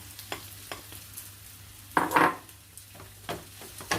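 Rice stir-fried with beaten egg and shrimp in a pan, with a soft sizzle under scattered spatula scrapes and knocks and one louder scraping stir near the middle.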